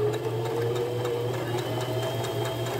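A Brother JX3135F sewing machine stitches along a raw edge of fabric with a steady, fast mechanical whir and rhythmic needle clatter that runs continuously, with no talking.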